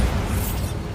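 A Bombarda spell explosion in Hogwarts Legacy erupts as a loud, dense, sustained blast filling the whole second with rumbling, crackling noise and no pause.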